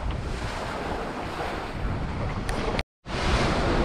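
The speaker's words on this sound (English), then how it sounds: "Okay, Carlos, here's some of that Cape effect wind compression." Wind and ocean waves at sea aboard the trimaran Ravenswing off Mexico, a steady loud broadband rush of wind buffeting the microphone over surf, cut by a brief dropout of silence before the roar resumes.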